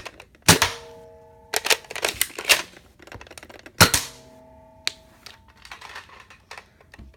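A Buzzbee Airmax Baron two-shot toy pistol being loaded and fired, heard as a run of sharp plastic clicks and clacks, with two louder snapping shots and ringing rattles, close up and without talk.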